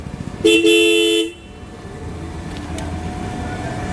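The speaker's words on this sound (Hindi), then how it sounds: "बहुत सिंपल वाले डबल हॉर्न है ये" A single loud aftermarket dual-tone horn blast from a Bajaj Pulsar N250 motorcycle, just under a second, then only a low engine hum and background noise.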